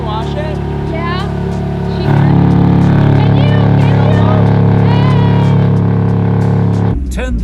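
A widebody Honda S2000 idles loudly nearby with a deep steady engine drone that swells and grows louder partway through, then cuts off abruptly near the end, with people talking over it.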